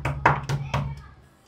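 Four firm knocks on a house door at night in an uneven rhythm, close by, with a low steady hum underneath and a faint trailing thud.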